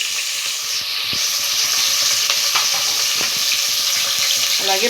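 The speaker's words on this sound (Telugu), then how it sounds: "ఇది చూడండి, మనకి ఇది ఇలా ఫ్రై అవుతున్నాయి కదా" Green peas fry in hot oil in a pan with green chillies, tomato and curry leaves, giving a steady, close sizzle with faint stirring clicks. No one speaks.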